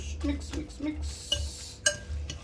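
Stirring meatball mixture in a bowl, with clinks and scrapes of a utensil against the bowl in a quick, uneven rhythm, close by, with a faint low hum underneath.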